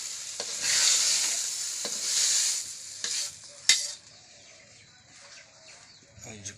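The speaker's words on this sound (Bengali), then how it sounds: "ভেজে লতিটা দিয়ে দিলে এখন নাড়াচাড়া করবো।" Taro stolons are fried with green chilies in oil and stirred in a pan, giving a loud close sizzle with spatula scrapes and knocks that fades to a quieter hiss, with faint bird sounds in the background.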